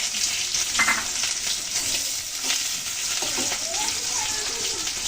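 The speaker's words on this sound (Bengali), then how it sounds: "পেঁয়াজ হালকা ভেজে নিলাম" Chopped onions fry in hot oil, a steady broadband sizzle with scattered stirring scrapes and clinks, fairly close and continuous throughout.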